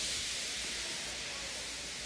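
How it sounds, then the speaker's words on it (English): A steam locomotive in the Trainz railway simulation lets off steam in a steady, broad hiss that holds evenly at moderate loudness for the whole stretch, alone without voices. "He just let off steam feebly."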